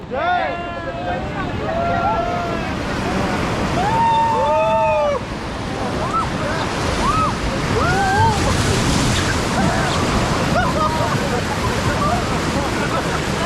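Rushing river rapids on the Ganges at Rishikesh during a rafting run, a loud continuous roar of churning water and waves with excited voices shouting throughout.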